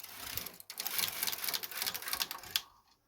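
A knitting machine carriage knits a row of tuck stitch in a sample yarn, giving a close, steady mechanical rattle and clatter that runs for about two seconds and then stops abruptly.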